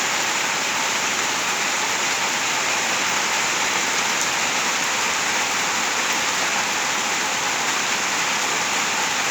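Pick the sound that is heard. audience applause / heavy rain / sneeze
heavy rain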